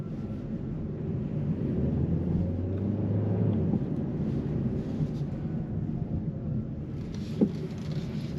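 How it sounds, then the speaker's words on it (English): Inside a 2023 Hyundai Sonata Hybrid SEL on the move, a low, steady road rumble fills a quiet cabin, with one faint click near the end. "Very minimal cabin noise, which is nice."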